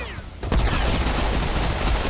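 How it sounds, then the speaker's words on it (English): Sustained rapid gunfire in Serious Sam 4, a dense, loud burst of overlapping shots and booms starting abruptly after a brief lull and continuing without pause. "Who's shooting at me?"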